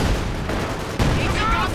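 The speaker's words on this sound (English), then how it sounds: "Field gun is blasting away at it from a nice safe range" A field gun fires in a Company of Heroes 2 match, a loud boom about midway through amid ongoing gunfire and battle noise.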